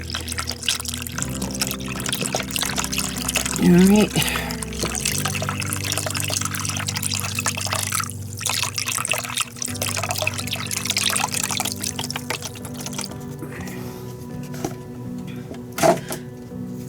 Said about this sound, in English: Let me hold this while I pour this in.